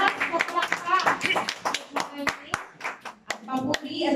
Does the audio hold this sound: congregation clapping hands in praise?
yes